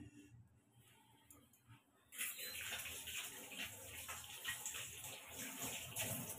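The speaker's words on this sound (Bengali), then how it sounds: "জমাট খেয়ে গেছে তো একটু জল দিতেই হবে" Water poured into a pan of thickened radhaballavi curry or batter, a sudden steady splashing rush that starts partway through after a quieter stretch and continues loud and close to the end.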